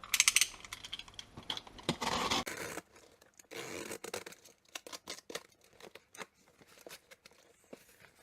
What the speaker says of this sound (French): L'outil indispensable, le petit cutter.